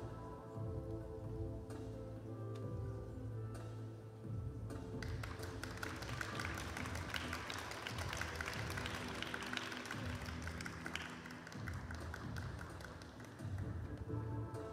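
A figure skating arena crowd applauds a clean double axel during a junior men's short program in Ostrava; broad, sustained clapping swells in from about the midpoint over continuing program music.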